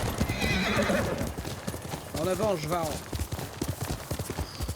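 A horse in the game Ghost of Tsushima gallops with quick clip-clopping hooves and lets out a clear whinny midway, under someone talking.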